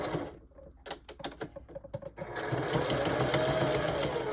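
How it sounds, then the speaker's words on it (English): A sewing machine stitches a zigzag pattern while attaching hair tracks to a mesh dome cap, starting with a string of quick, separate needle taps, then settling into a fast, continuous whirring run up close. "Now we're going to sew with the zigzag pattern."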